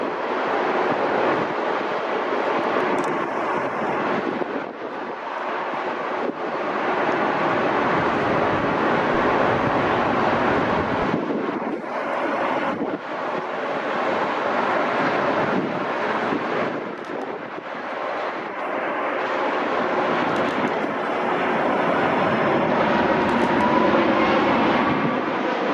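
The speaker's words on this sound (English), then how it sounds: "operated by a Boeing 737-800, comes in on short final and promptly touches down on runway 4 right" A Boeing 737-800 lands on runway 4 right at Newark Liberty airport, heard as a loud, sustained roar of jet engines with wind rumble that swells and eases over roughly twenty-five seconds, with no voices.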